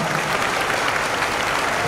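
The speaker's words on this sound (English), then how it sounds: "Let's give another round of applause for our students with straight A's for this school year." An audience at a middle school promotion ceremony applauds straight-A students, a continuous, even roar of clapping from many hands with no pause.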